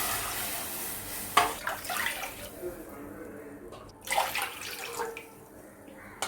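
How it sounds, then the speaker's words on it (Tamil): Water poured into a pan for carrot kesari made with semolina, three cups of water to one of rava, heard as two distinct splashing pours with quieter trickling between them in a home kitchen. "இப்போ ஒரு பேனில் வந்து நம்ம 1 கப் ரவைக்கு 3 கப் தண்ணி வச்சுக்கலாம்."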